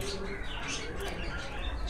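Prince Kamagar pigeons in a Pakistani high-flying loft, with soft bird calls and cooing spread through a steady, close, busy background of other birds and low voices.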